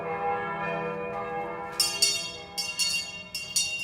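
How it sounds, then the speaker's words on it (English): A large bell, the Freedom Bell, rings overhead in repeated, fairly loud strokes with sustained ringing tones between them, rising over a steady tonal hum in the first seconds. "The Freedom Bell. That's what it is. The Freedom Bell."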